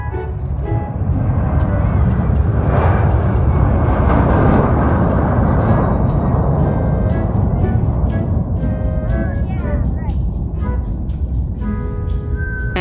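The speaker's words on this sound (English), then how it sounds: "Now here we have a a KC-47 Pegasus takeoff" KC-47 Pegasus tanker aircraft taking off at an air museum: a loud, steady jet engine roar that fills the whole stretch, with no talking.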